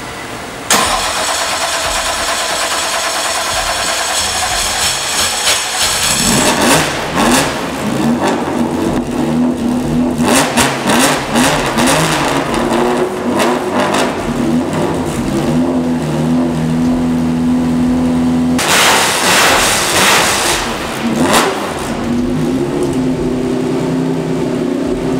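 A Ford Mustang GT engine starts up close and loud, settles into a rumbling idle, then revs hard in several bursts, with a long, strong rev near the end.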